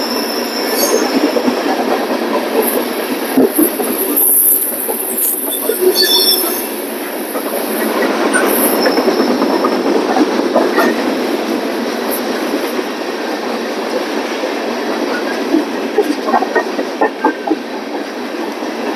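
A Norfolk Southern freight train, led by a locomotive in former Central Maine and Quebec livery, rolls steadily past close by, its wheels squealing high and continuous over a dense rail rumble for the whole stretch, with no talk.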